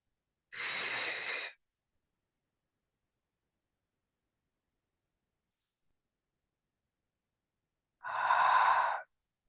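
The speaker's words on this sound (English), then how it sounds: "Releasing the breath audibly so you can release the jaw." Two audible breaths are exhaled during a pilates mat exercise, each a soft, close, breathy sigh about a second long, separated by several seconds of silence.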